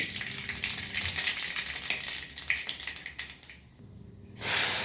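Mustard seeds spluttering in hot oil in a pan, a steady crackling sizzle with dense popping that dips briefly near the end before a loud burst of hiss.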